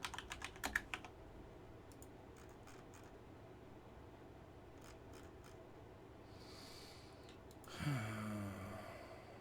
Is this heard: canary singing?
no